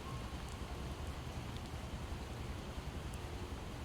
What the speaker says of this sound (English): it's a little down right now because there's like rain